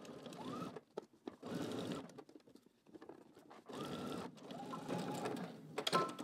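A sewing machine stitches a seam with a 5/8 inch seam allowance and backstitches, running in several short whirring bursts separated by brief pauses, close and clear.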